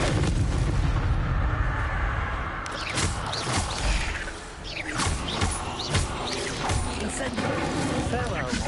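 Incendio fire spell cast in a wizard video game, loud whooshing blasts and impact booms layered over busy combat effects, with a character voice shouting over the noise.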